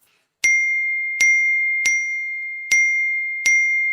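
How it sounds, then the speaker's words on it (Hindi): Five bright electronic chimes ring out one after another in quick succession, each a clear ding that lingers briefly, with silence otherwise. "सबके फोन में एक साथ नोटिफिकेशन आते हैं"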